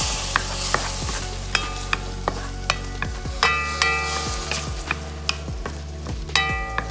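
Homemade grated tomato sauce being stirred into braised oxtail stew in a pot, a spoon knocking and scraping the pot in a steady rhythm over a soft sizzle, close and alone.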